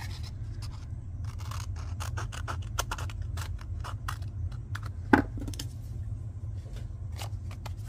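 Scissors or a blade cutting paper cardstock from behind in a stamping and card-making craft, a run of quick crisp snips and rustles, close and fairly quiet over a steady low hum.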